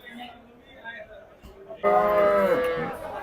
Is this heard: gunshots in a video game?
no